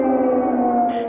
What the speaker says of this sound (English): Air raid sirens continue to ring out across the capital.